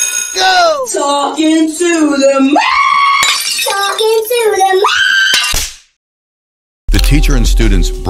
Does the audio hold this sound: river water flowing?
no